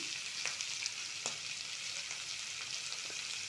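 Spices fry in a pan for paneer curry, a faint, steady high hiss with a few soft ticks and pops, heard alone without talking.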